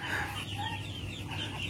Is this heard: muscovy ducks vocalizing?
yes